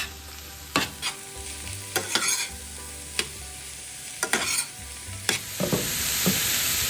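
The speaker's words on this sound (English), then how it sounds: "Let's saute and mix all the ingredients well." Broad beans stir-fried in a pan: a steady sizzle runs throughout while a spoon scrapes and clacks against the pan in irregular strokes, close and clear with no talking.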